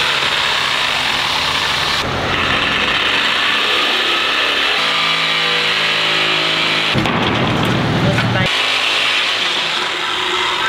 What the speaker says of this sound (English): So just cut off a sheet of aluminum plate.